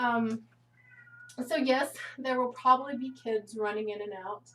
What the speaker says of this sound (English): I don't know if you guys can hear the cat in the background